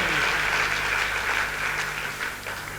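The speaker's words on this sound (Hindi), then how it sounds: "एक बार जोरदार तालियां इन दोनों के लिए" A seated audience at a business motivational event breaks into loud, sustained applause, a dense wash of many hands clapping together that tapers off slightly toward the end.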